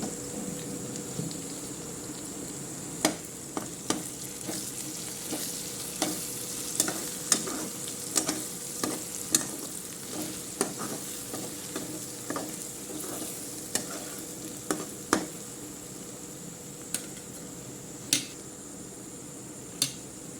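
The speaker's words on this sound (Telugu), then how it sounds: "చక్కగా ఉల్లిపాయ వేగింది కదండి. మనం చిటికెడు పసుపు వేసుకుందాం." Chopped onions sizzle steadily in a hot pan with a pinch of turmeric added for an egg curry, broadband frying hiss throughout, punctuated by frequent sharp spoon clicks against the pan as the mix is stirred, no talking.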